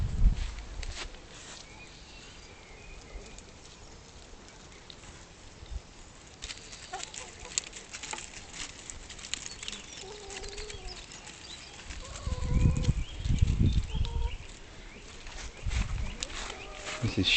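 Backyard chickens cluck and call softly around their shed beside an allotment plot, scattered close sounds with footsteps and rustling, and a person talking over parts of it.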